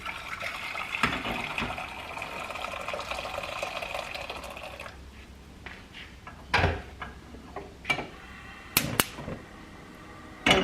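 Boiling water is tipped into a cooking pot with a steady, rushing pour that lasts several seconds, followed by a few sharp metallic clinks and knocks at close range.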